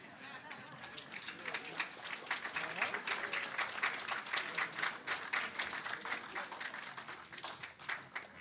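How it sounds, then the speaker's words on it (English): Guests at a CCRP Jamaica Legacy Awards ceremony clap for an honoree, with sharp, distinct claps ringing out over murmuring chatter while people talk nearby. "Please clap Mr. Mays and that."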